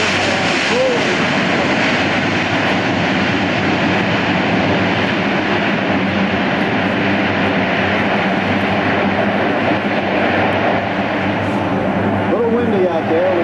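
A C-130J-30 Hercules turboprop landing at a Rhode Island Air National Guard open house airshow, a loud, steady propeller and engine roar filling the whole stretch, with an announcer's voice faintly mixed in.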